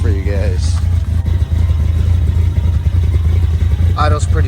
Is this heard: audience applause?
no